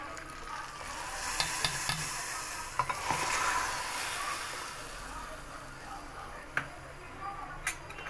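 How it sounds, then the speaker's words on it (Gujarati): Vaghar tempering for Gujarati kadhi crackles and sizzles as it is poured into the pot, a steady moderate frying hiss with a few sharp pops and ticks from the pan, close by and without talk. "હવે આ વઘાર આપણે કઢીની અંદર નાખી દઈશું"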